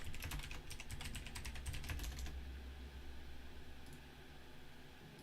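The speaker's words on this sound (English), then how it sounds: "I'm typing something, which y'all can probably hear." Rapid clicking of keys on a computer keyboard, steady and close for about two seconds, then stopping, leaving faint background hiss and one brief later click.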